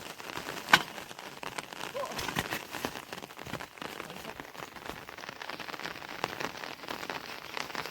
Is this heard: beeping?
no